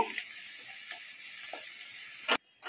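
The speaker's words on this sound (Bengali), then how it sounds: "পেঁয়াজটা একটু লাল লাল করে ভেজে নেব" Onions frying in mustard oil give a brief, moderately quiet hiss with a few faint clicks, ending in a sharp clatter before the sound cuts off.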